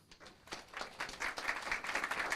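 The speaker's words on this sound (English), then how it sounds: "No applause necessary." Audience applause at a city council meeting, starting sparse and quiet then swelling into steady, moderately faint clapping from a roomful of people.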